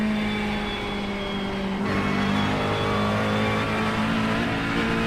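GT3 race cars lapping Sebring in the iRacing sim give off a steady, droning engine note that holds throughout, with a gear-change shift partway in and no talk.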